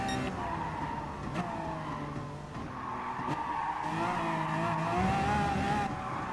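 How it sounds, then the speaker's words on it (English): A Lamborghini Aventador Superveloce braking at Monza in the Gran Turismo Sport racing game, its engine note steady and loud with a high tire whine running over it and no pause. "just gonna have to pull the brakes again"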